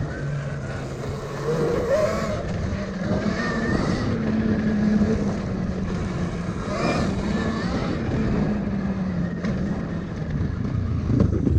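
Velimotor VMX12 motorcycle ridden over hilly terrain, a continuous close engine drone with rising and falling revs as it climbs bumps, wind noise mixed in, no speech.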